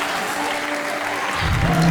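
A church congregation applauds during a night prayer service, a steady wash of clapping that swells slightly toward the end, with a voice faintly underneath.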